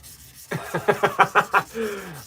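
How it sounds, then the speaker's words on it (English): Rhythmic back-and-forth rubbing strokes of hand sanding on wood, about six quick scrapes in a row, close and moderately loud, ending in a softer drawn-out sweep. "We got to keep hand sanding."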